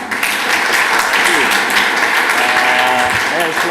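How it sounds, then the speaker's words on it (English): A conference audience gives a round of applause for a speaker, a loud, steady mass of clapping with some voices mixed in beneath it. "round of applause for Benoit, guys"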